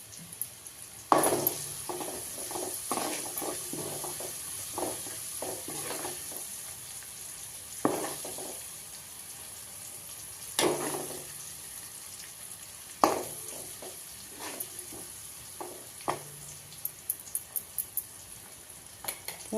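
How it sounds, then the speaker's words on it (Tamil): Curry leaves crackling in hot oil while making tomato pickle, a steady sizzle broken by repeated bursts of spoon scrapes and clinks against the pan, denser at the end. "இப்போ கருவேப்பிலை போட்டுடலாங்க."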